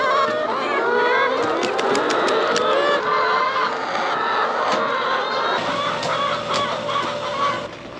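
A crowd of chickens on a farm clucks and squawks close by at feeding time, overlapping calls forming a loud, busy chorus with occasional sharp clicks and rattles.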